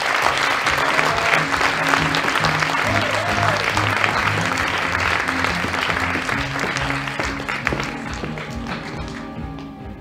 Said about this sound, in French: je vous demande d'applaudir Thibaut et Arève.